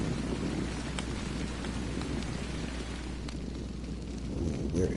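Rain falls in the video game Ark Survival Evolved as a steady dense patter with faint low rumbling underneath and a few sharper drops, constant throughout, with no talking.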